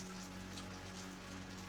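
Heavy rain building toward a storm, a soft, continuous patter and hiss with no pauses or distinct drops standing out, heard quietly and alone.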